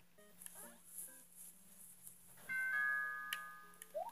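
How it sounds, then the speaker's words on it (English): A bright electronic doorbell chime rings out in a Mario Maker game scene, a sustained tone with a couple of higher pings, over faint background music and sound effects. "Oh, the doorbell is ringing."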